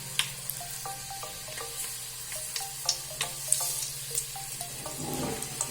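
Chilies crackle and fry in hot oil, with repeated short pops and spits over a steady low sizzle, close and fairly quiet.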